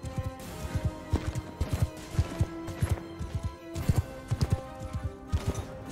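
Hooves of horses in Mount & Blade 2: Bannerlord clip-clop in fast, steady galloping rhythm, several animals overlapping with battle noise in the background, loud and continuous throughout.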